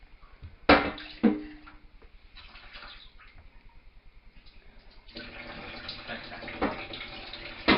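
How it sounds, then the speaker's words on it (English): Salted, beetroot-cured salmon is rinsed under a running kitchen tap, with water splashing in bursts against the fish and sink, some handling knocks and a brief voice. "So just give this a good rinse around, get rid of all the salt."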